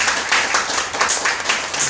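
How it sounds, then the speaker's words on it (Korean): A church congregation applauds together during a worship service, a dense, steady wash of many hands clapping at close range for the whole stretch. "다 같이 박수로 환영하고 감사하겠습니다."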